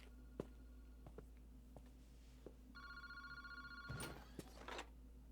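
A telephone rings at a park phone booth in the video game Paranormasight. One bright electronic ring burst sounds midway, over a steady low hum and a few faint clicks.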